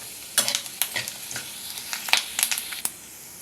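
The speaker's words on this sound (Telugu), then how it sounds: "ఇవన్నీ చిటపట్లాడిన తర్వాత రెండు ఎండుమిర్చి ముక్కలు చేసి వేస్తున్నాను" Mustard seeds, cumin and broken dried red chillies splutter in hot oil for a tempering, giving a run of sharp crackling pops and sizzles close by, irregular and fairly quiet, with no talking.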